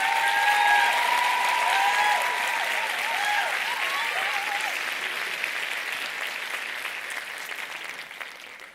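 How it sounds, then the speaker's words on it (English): Graduation-ceremony audience at the University of South Africa applauds standing doctoral graduates, with continuous dense applause lasting close to nine seconds and slowly fading, with some voices and a brief tonal sound near the start. "Let's give them a round of applause."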